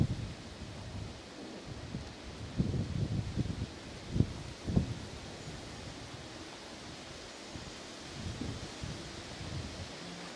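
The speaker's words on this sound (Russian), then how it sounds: "Ветер." Wind blows across open Siberian steppe near the Irtysh, a steady broadband rush with a few stronger gusts and rustling bursts early on, then settling into a low even roar.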